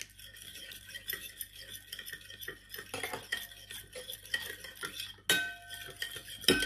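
A spoon clinks and scrapes against a pan as sunflower oil is spooned in, giving irregular close metallic taps and rattles over a quiet kitchen background.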